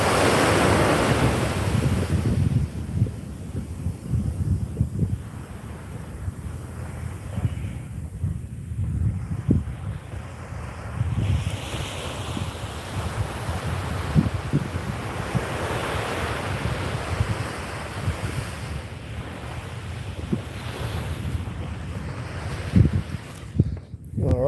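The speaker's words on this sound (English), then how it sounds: "Even though it's low tide, for whatever reason, man, the waves run up in this spot." Ocean surf running up a beach at low tide on a peninsula at Long Beach, a steady loud wash of breaking waves with surges and retreats, heavy wind buffeting the microphone throughout.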